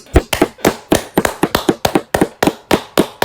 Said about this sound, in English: This is a long clap here, Producer Reese